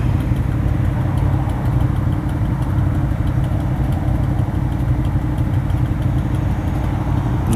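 A motorcycle engine idles loud and close with a steady, low rumbling drone that holds unchanged throughout.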